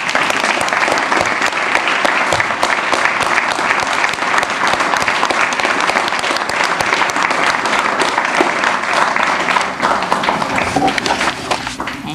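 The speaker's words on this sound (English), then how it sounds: "would you please stand and accept the round of applause?" An audience at a hospital volunteer recognition evening gives loud, sustained applause for a family support team award, a dense, close roar of many hands clapping that holds steady for over ten seconds before easing slightly at the end.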